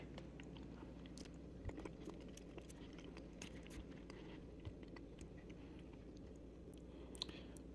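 Chewing a bite of Palo D'Oro avocado, dense rather than mushy, with soft, irregular mouth sounds and a few small crunchy clicks, close up and faint against a steady low background hum, no talking.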